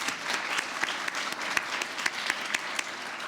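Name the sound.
audience applause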